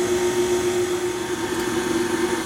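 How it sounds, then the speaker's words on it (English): Hand mixer running on its lowest setting while blending dry ingredients into cream cheese cookie dough, a steady, even motor whine with a constant pitch and no voices. "we're going to put this on a low setting, so it'd be like number 1 on your hand mixer"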